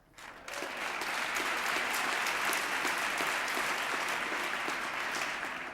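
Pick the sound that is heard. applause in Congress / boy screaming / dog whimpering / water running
applause in Congress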